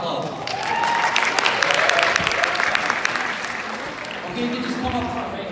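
Audience at a comedy show during a campus culture night applauds, dense clapping with some cheering and a voice over it, loud and close and fading a little toward the end.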